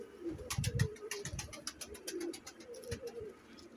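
A breeder male pigeon from a Teddy golden pair gives soft, low cooing calls, repeated in short rolling bursts, quiet and close.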